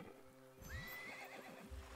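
A horse in Minecraft Legends gives a single clear whinny over steady game ambience, with a soft clip-clop of hooves and a low background hum, close and fairly loud.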